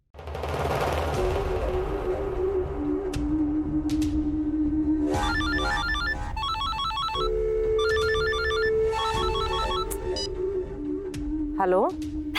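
A telephone rings repeatedly in a domestic drama scene, its electronic ringtone bursts loud over background music before the call is answered.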